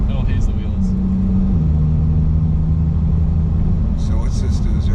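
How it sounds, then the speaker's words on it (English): A Nissan R34 GTR with all-wheel drive, freshly retuned, accelerating hard: a loud, continuous engine roar with a steady low drone that shifts pitch partway through as the revs change, with a few bright chirps near the end. "This is one of the few cars that still surprises me every time I step on the gas"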